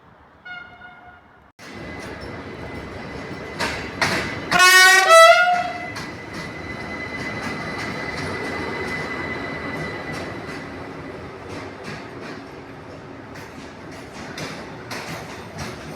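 A PESA Regio regional train pulls into Gara de Nord station with a steady rolling rumble and rattling wheels, sounding a loud horn blast briefly near the start before running on alone.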